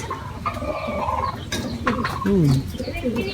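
Young racing pigeons returning from a training flight and landing at the loft, with cooing and bird calls mixed among clucking fowl sounds under a steady outdoor background, one louder call standing out near the middle.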